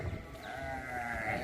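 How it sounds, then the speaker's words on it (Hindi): Sheep and goats bleating on a farm, a close, moderately loud bleat held over a short stretch, with no talking. "ये पूरे भेड़े हैं, बकरियां हैं"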